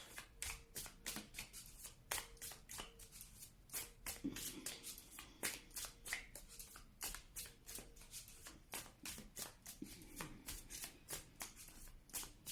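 A deck of tarot cards riffled and cut close by, with quick, repeated papery flicks and snaps in a steady rhythm, faint and alone throughout.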